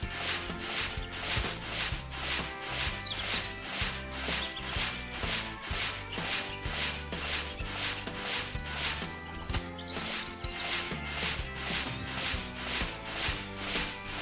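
A rake sweeps leaves in the video game Leaf it Alone, regular rhythmic scraping strokes about twice per second, loud and steady over soft game music with occasional light chimes.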